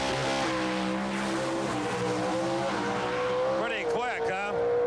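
A Pro Stock drag race car roars at a race in Mexicali, Mexico, its engine loud and sustained throughout, with a swelling, wavering pitch near the end while a voice talks over it.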